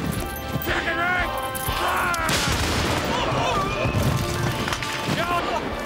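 Rifle volleys fired on command by ranks of soldiers in a Napoleonic-era battle scene, sharp bursts over continuous battlefield din with shouted orders and voices throughout.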